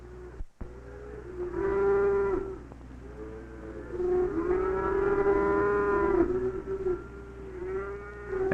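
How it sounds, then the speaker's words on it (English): Dairy cows lowing inside a 1960s milking barn, several long, tonal moos rising and overlapping, fairly close and loud against a steady low room hum, with no talking. "The milkers bring the cows in from the different corrals to the milking barns."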